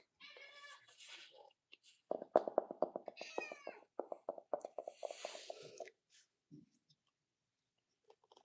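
A cat meows repeatedly at close range in a quiet room, with several short, clear cries over a few seconds, a few faint clicks, and then near silence.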